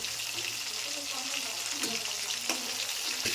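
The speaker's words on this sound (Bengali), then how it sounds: "এখন মাছটা ছেড়ে দিতে হবে। মাছটা হালকা করে ভেজে তুলে নিতে হবে।" Hilsa fish slipped into hot oil in a home kitchen, a soft continuous sizzle and crackle with a few faint pops, quiet and steady throughout.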